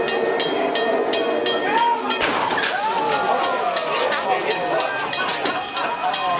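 A train rumbles past with rattling, clinking metallic clatter and squealing wheel tones that rise and fall, loud and close throughout.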